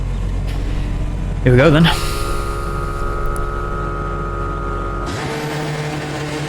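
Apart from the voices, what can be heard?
Hyundai Elantra race car launching off the start line, iRacing video game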